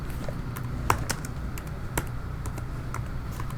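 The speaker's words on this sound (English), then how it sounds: "type Ad Astra right here" Fingers tap out a short burst of typing on a computer keyboard, with light irregular key clicks over a steady low background hum.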